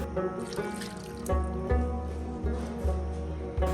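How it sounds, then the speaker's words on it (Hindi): Two cups of water pour and splash into an iron karahi in a kitchen, a steady close trickle with a few heavier gulps, over a faint low hum. "तो इसमें मैंने 2 कप पानी के ऐड करने हैं।"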